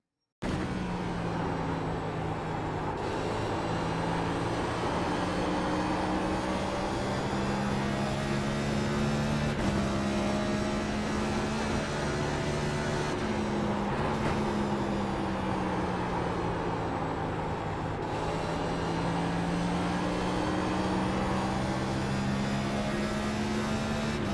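Simulated NASCAR stock car lapping Phoenix in iRacing, its engine droning steadily throughout with a tone that rises and falls through corners and straights, loud and continuous with no talking.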